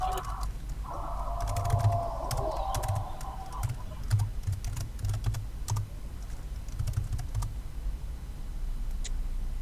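Someone types a username and new password on a computer keyboard, a run of quick, light key clicks close by over a steady background hum, with no talking.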